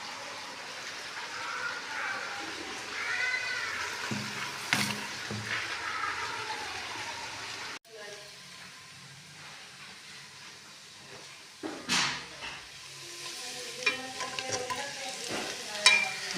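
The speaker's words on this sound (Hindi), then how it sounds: "लहसुन मैंने डाल के फ्राई कर लिया" Garlic frying in oil in a pan for bhindi masala, a steady sizzling hiss broken by scraping stirs and clatters of the spoon, heard up close.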